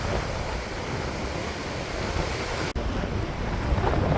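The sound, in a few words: strong wind driving high sea waves at a beach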